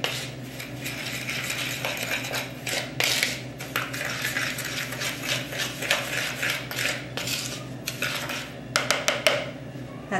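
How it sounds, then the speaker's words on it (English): Cinnamon and sugar being mixed in a bowl for homemade cinnamon buns, with close, busy clinks and scrapes of utensil against bowl, irregular and continuous, some sharper taps toward the end, no voice. "I'll mix the cinnamon and sugar together."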